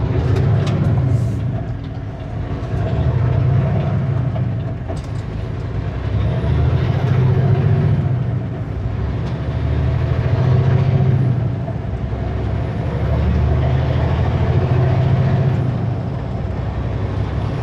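During a brake check, a Super B truck sits with its diesel rumbling steadily while short hissing bursts of air brakes release near the start and again a few seconds later.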